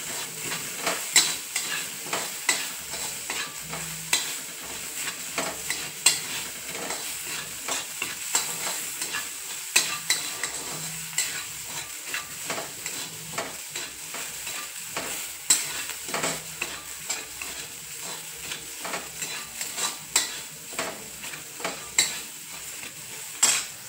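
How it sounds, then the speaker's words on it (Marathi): Green chillies with a little salt are stirred and sautéed in a pan, giving a soft steady sizzle punctuated by regular scraping and clinks of the spoon against the pan. "मिरची छान आपल्याला परतून द्यायची व्यवस्थित।"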